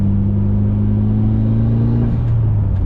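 Mitsubishi Evo 7 or turbocharged MX5 engine pulling hard in second gear, a loud steady rising drone that drops in pitch near the end as the revs fall, heard close from the cabin with no talk.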